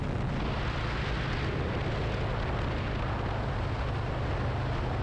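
Harley-Davidson Street Bob 114 (FXBBS) motorcycle engine on a test ride, a loud, steady low rumble with constant broadband roar of wind and road noise throughout.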